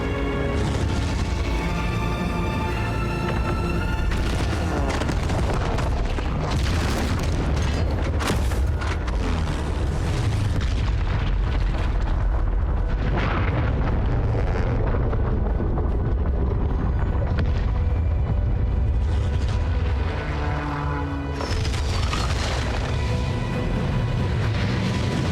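An anti-aircraft gun fires as bombers attack in Battlefield 1, a loud continuous barrage of deep booms and blasts layered over roaring, rumbling battle noise.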